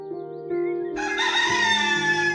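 A cartoon rooster in a children's story lets out a loud, bright, stretched crow that rises and holds, alone over a soft background tone.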